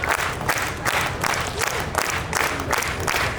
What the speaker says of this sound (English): Everybody clap, clap, clap, clap to the top.